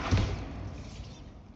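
A Bombarda blast spell from the Hogwarts Legacy video game lands as a single heavy thump with a sharp hit at the start, then a rumbling tail that fades away, with no voices.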